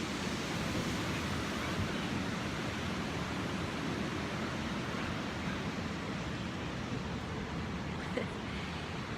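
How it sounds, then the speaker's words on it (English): Ocean waves at a beach heard as a constant, broad roaring wash, loud and even throughout without clear breaks between surges, and no talk over it. "I'm sure you can hear the ocean behind me."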